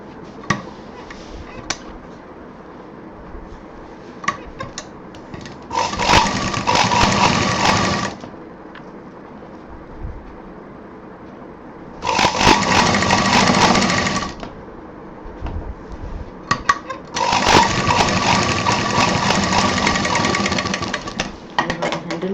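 An electric sewing machine stitches the sides of a handbag decorated with pearls, running in three steady bursts of about two to six seconds each, loud and close, with quiet handling noise between the runs.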